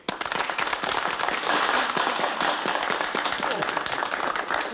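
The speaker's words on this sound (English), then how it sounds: "Applause for the Russian visitor." A studio audience applauds a Russian visitor in a wartime British comedy setting, steady dense clapping filling the whole stretch at moderate distance, with no speech over it.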